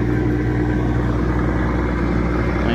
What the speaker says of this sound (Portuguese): Eu falei pra vocês que meu trotinho ia andar na estrada de terra devagar